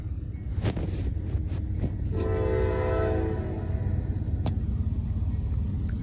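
Norfolk Southern freight train rolling past in Gaffney, South Carolina, with steady rail rumble and clatter throughout, sharp wheel clicks, and a loud sustained horn blast in the middle of the pass.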